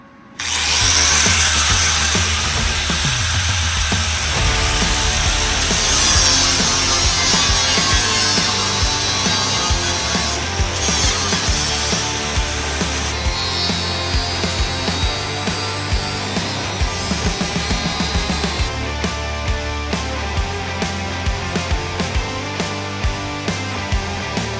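A power tool trimming an aluminum floor piece for a YJ buggy tub, a loud sustained grinding whir that later breaks into a run of rapid, regular bursts and clicks.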